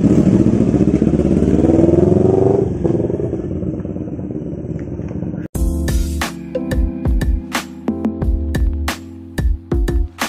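A CF Moto NK400 motorcycle fitted with a Yoshimura R77 titanium exhaust roars close and loud through a rising rev, then settles into a choppy idle broken by sharp repeated throttle blips and pops.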